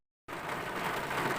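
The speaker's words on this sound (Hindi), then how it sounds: "साथ में बारिश का मौसम भी है, तो बारिश भी चालू हो चुका है।" Rain falls at Sondur dam, a steady broadband hiss that starts abruptly after a moment of silence and continues evenly at moderate, fairly soft level.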